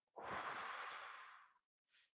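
One deep, slow breath taken during a guided meditation, a long close exhale lasting over a second, followed by a brief soft intake of air, with no speech.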